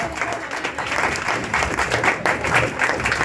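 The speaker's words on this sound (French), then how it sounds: "Acclame la parole de Dieu alors." Congregation applauding in a church during a night prayer vigil, dense steady clapping from many hands filling the room, with no voice over it.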